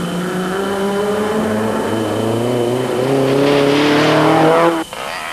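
An off-road race car from the Caledon 400, a Raceco or Toyota Hilux 4x4 in Class E, drives close by, its engine climbing through rising revs before cutting off abruptly near the end.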